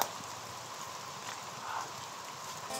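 Steady rain falling heavily outdoors, a dense continuous hiss with no break, fairly faint and even throughout, with no voices.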